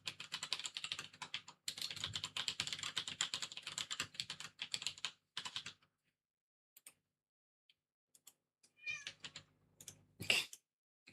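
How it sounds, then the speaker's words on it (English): A house cat gives a couple of short meows late on, after bursts of rapid computer-keyboard typing and quiet gaps in an indoor room; the cries are brief and fairly close. "Cat's crying at me as well."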